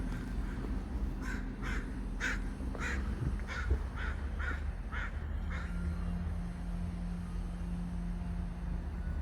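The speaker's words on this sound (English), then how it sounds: "I think the crow's waking everybody up." A crow caws repeatedly in a cemetery, about eight harsh calls in a steady series, fairly close over a constant low background hum.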